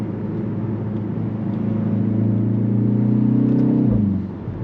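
A 2024 BMW X1 M35i accelerates hard in third gear, its engine note rising steadily in a loud droning rumble inside the cabin before dropping abruptly at the shift.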